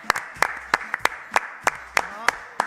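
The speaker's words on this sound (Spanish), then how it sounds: "Ahora todos, Un aplauso, por favor." A studio audience claps in sharp, distinct bursts, a handful of irregular loud claps rather than a full ovation, with voices talking over them.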